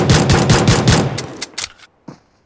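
Bursts of automatic gunfire from the mobile shooter game PUBG Mobile, a fast, loud string of shots that breaks into a few separate rounds and then a last isolated shot before falling silent.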